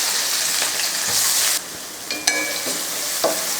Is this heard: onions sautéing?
yes